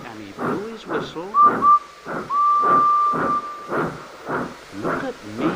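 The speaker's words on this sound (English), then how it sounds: "And he blew his whistle." Edward, a steam engine, gives a sustained high whistle, two short toots and then a long held blast, under a narrator's speaking voice.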